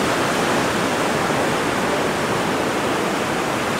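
Steady, unbroken roar of beach surf at Ilhéus, Bahia, Brazil, a dense wash of breaking waves filling the whole stretch at moderate loudness with no voices.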